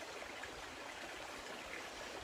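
Water running from a faucet in a steady, even rush that stays faint and constant throughout, with no voices.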